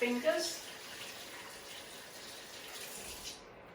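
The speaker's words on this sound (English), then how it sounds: "I highly recommend you wash your hands at this point" Hands washed under a running kitchen tap during duck roasting, with a steady soft hiss of flowing water at moderate distance that stops abruptly at the end.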